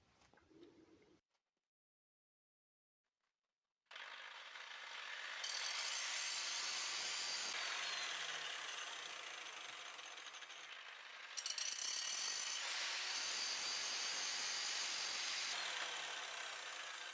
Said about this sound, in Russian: Срезаю прихватки, убираю заусенцы и недорезы.